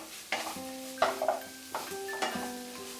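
Potato stuffing with chopped green chillies and coriander being stirred and mashed in a pan, soft scraping and clinking strokes at irregular intervals, close and fairly quiet.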